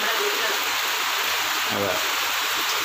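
Steady rain falls outside a home kitchen in Kerala, a constant hissing wash of drops under brief, faint speech.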